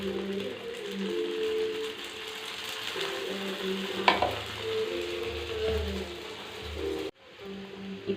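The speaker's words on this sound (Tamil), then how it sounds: "திருப்பி போட்டு அப்பவும் நம்ம எண்ணெய் ஊற்றணும்." Bun parotta fries in oil on a flat pan, a continuous close sizzle with occasional scraping and clinking of a spatula as it is turned.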